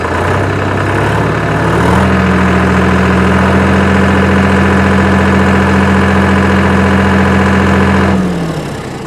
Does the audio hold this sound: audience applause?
no